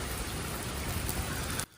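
Hail pounding down during a severe storm in Tallahassee, Florida, a dense, loud, continuous hiss of ice pellets striking surfaces that cuts off abruptly near the end.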